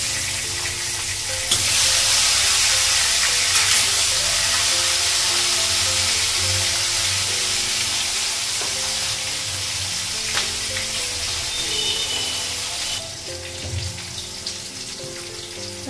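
Fish frying in a pan in a home kitchen, seasoned with turmeric, crackling with a steady bright sizzle and hiss that swells in places and settles, accompanied by occasional clinks and spatters, with no one speaking.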